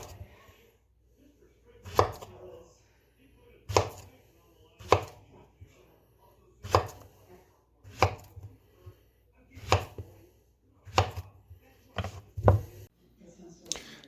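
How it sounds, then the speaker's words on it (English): Knife slicing plantains about an inch thick on a cutting board: a series of sharp, distinct chops spaced unevenly a second or two apart, close and clear with quiet gaps between. "Then you're going to slice them. About an inch thick, I'd say."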